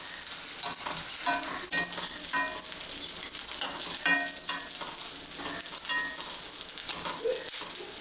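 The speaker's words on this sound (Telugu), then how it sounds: "ఈ గీ అంతా వీటికి చక్కగా పట్టేలాగా ఒక 2 సార్లు అలా మిక్స్ చేసుకుని మీరు స్టవ్ ఆఫ్ చేసుకోవచ్చండి" Dry fruits and sesame seeds stirred in ghee in a pan for laddu, a soft continuous sizzle broken by repeated scraping and clinking strokes of the spoon.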